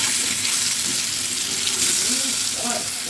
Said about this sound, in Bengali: এখানে আমি আলুগুলো বেশ কড়া করে লাল লাল করে ভেজে নিয়েছি।